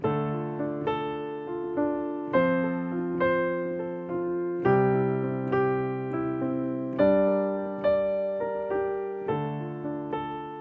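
Piano playing a repeating chord pattern with tied notes, some chords struck and held across beats while others restrike, steady and even, no talking.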